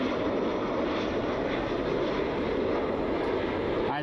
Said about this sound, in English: Southwest is still rolling down the runway.